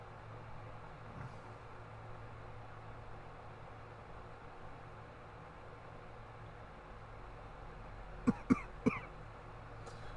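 A short cluster of three or four quick coughs from one person near the end, close and fairly sharp, following a long stretch of low, steady background hum.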